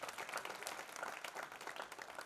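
Audience clapping at a temple auction during a Ram temple idol consecration festival, a faint, dense and continuous patter of applause from a crowd, steady through the short span with no talk.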